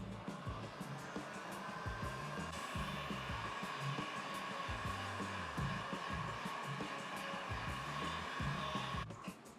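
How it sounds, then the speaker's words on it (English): A heat gun drying freshly printed screen printing ink gives a steady, even blowing roar that holds unchanged for the whole stretch, moderately quiet and alone. "I'm going to use the heat gun to temporarily dry the thing"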